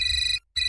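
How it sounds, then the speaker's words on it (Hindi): A telephone rings with a bright electronic ringtone, two bursts split by a short gap, loud and close with no voices. "वाइफ का फोन है।"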